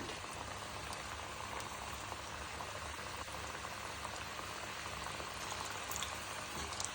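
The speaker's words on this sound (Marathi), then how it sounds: "केळ्याच्या आपण चकले केलेल्या तेलामध्ये सोडूत एक एक करून सोडूत आणि तीन ते चार मिनटं तेलामध्ये छान तळून घेऊ" Raw banana slices deep fry in hot oil with a constant, dense bubbling sizzle, moderately quiet and unbroken, no talk.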